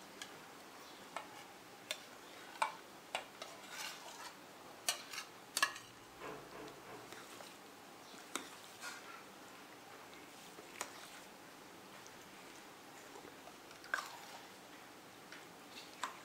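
Chopped green and red grapes and banana being stirred into sweet yogurt for falooda, with faint, scattered clicks and taps of a spoon against a bowl in a quiet room.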